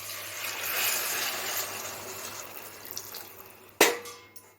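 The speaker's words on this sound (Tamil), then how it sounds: "இப்போ இது கூட வந்து தண்ணி ஒரு 2 டம்ளர் தண்ணி ஊற்றிக்கலாம்." Water from two tumblers pours into a cooking pan, a soft running stream that fades out, then a sharp metallic clunk as the tumbler meets the pan, with no talking.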